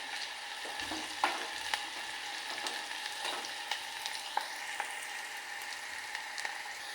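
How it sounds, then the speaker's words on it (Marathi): Chopped onion fries in a pan with a little cumin, a quiet, steady crackling sizzle with light stirring taps and occasional sharper pops, heard close but soft. "आपल्याला कांदा टाकायचा आहे. कांदा चांगला लाल होऊन द्यायचा."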